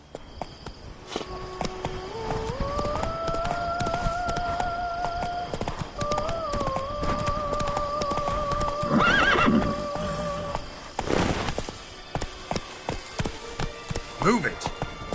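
Horse whinnies and clip-clopping hooves from The Witcher 3 on PS5, with gliding neighs over steady galloping, then a burst of louder hoof hits and scattered thuds toward the end, set against game ambience.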